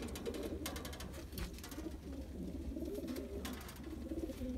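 Pigeons coo softly in a low, steady murmur, many birds together inside a vehicle fitted for transporting racing pigeons, with faint fluttering and rustling over a rumbling background.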